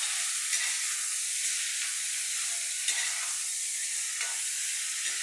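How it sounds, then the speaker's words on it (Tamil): Ridge gourd peel and coconut sautéing in a pan for a Tamil chutney, a steady close sizzle with occasional stirring scrapes throughout, no talking. "நல்லா வதங்கணும்."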